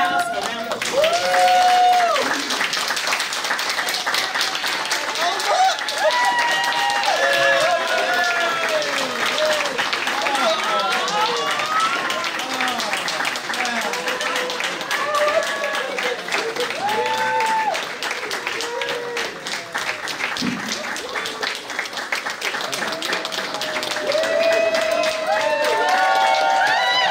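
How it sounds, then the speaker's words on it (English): A school audience gives a standing round of applause for the Principal of the Year: sustained, dense clapping with some cheering from a large crowd, steady and loud throughout, with voices mixed in. "give Martin Newhouse a round of applause"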